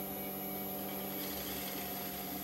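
A drill bores to the bottom of a wooden hollow form spinning on a slowed lathe, a steady close motor hum with tonal whine and a faint grinding texture that rises slightly partway through.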